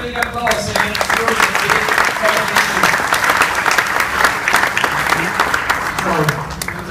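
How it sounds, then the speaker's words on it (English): An audience at an innovation academy panel bursts into loud, sustained applause for a team, a thick continuous patter of many hands clapping close by, with no pause for seven seconds. "Give a big applause against your"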